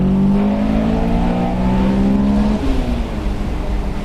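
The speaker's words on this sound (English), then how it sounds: "it makes this fantastic sound at wide open throttle" A 2001 Honda S2000 AP1 engine roars loudly and continuously at wide open throttle, its pitch climbing as it revs hard, with no voices.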